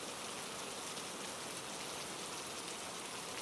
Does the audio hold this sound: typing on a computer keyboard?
no